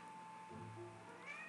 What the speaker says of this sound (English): Oh, that's the cat.